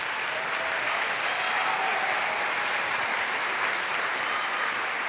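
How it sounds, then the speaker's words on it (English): An awards-night audience breaks into continuous applause for the Chase Youth Commissioners standing to be recognized, a dense and even roar of clapping that holds at a constant level from start to finish. "Let's give them a round of applause."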